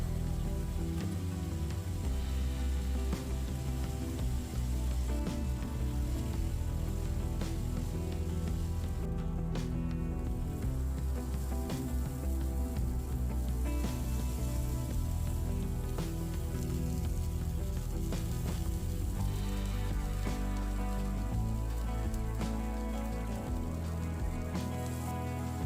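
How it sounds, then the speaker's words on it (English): Sweet potatoes steaming and sizzling in a covered pan after a splash of water, a steady dense crackle and hiss running unbroken and fairly loud throughout, with no talk over it. "Add a splash of water, cover the pan and let the sweet potatoes steam for about 5 minutes"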